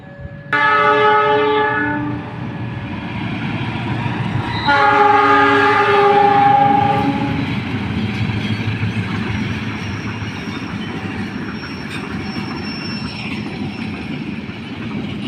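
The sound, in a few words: Papandayan train with CC 206 locomotive passing on straight track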